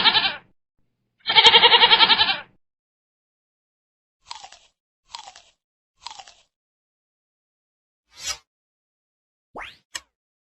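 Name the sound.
goat bleating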